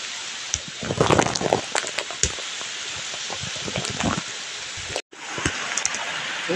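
Heavy rain falls on a rural farm during a flood, a constant hiss of drops close by, briefly cut off once, with scattered voices and splashes.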